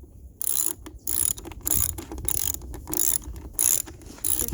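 Bursts of rapid ratchet-wrench clicking while bolts are loosened on a dirt bike's air filter, repeating in short rhythmic strokes with brief pauses between, close and fairly loud.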